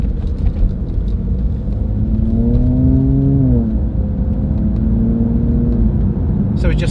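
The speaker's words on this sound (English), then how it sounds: "So we're just letting this gearbox shift in auto mode" A car with a ZF automatic gearbox drives along with a steady engine drone, its pitch rising and then dropping as a gear change occurs, then settling again; road rumble stays constant throughout.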